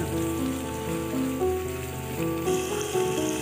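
Onions sautéing in oil for a chicken gizzard and liver curry, a close, steady sizzle and crackle under soft background music, no talking.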